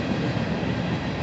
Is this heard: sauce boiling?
no